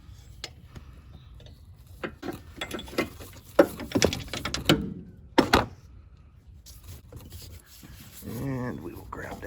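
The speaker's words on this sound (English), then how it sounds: "Ratchet set to loosen, counterclockwise" A ratchet clicking as it loosens the serpentine belt tensioner on a 2018 Toyota Yaris iA 1.5L, a close series of sharp ticks in short bursts amid handling clunks.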